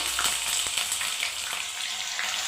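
Ginger paste sizzles in hot oil with mustard and cumin seeds for a spicy mutton chutney, a loud, close crackle with scattered pops and no talking.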